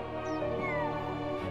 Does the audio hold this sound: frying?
no